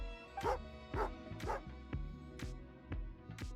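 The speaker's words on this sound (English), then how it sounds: "Good doggy. A fellow dog lover, huh?" A dog in the video game Genshin Impact gives a series of short, evenly spaced barks and yips while eating jerky, close and clear, about seven in a row.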